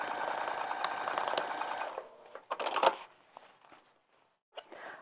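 Sewing machine stitching the boxed corners of a fabric bag, a steady close rapid whir for about two seconds, then stopping, with a few brief handling noises after.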